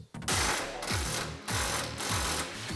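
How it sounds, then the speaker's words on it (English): Power tool removing bolts from the radius arms of a Polaris RZR Turbo S, a loud, continuous close whirring and ratcheting with repeated pulsing surges throughout. "Then we're going to remove the radius arms from the center of the machine by removing these 4 bolts."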